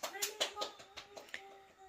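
A child claps in quick bursts after scoring a goal in his game, about seven or eight sharp hand claps over two seconds, moderately close but not loud, with voices faintly underneath.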